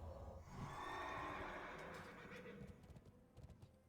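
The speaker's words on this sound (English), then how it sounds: "The HD model for that horse," A video-game horse gives a loud, drawn-out whinny up front, then its hooves clip-clop in a quick irregular patter as the neigh fades.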